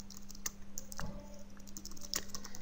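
Keystrokes on a computer keyboard while a SQL stored procedure is typed out: irregular, close, crisp taps with occasional bunched flurries and short pauses, alone in a quiet room.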